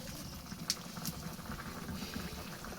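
A pot of stuffed pointed gourd curry with tengra fish bubbles on a clay stove, with a close, continuous burble of boiling liquid and a couple of sharper pops over a low rumble.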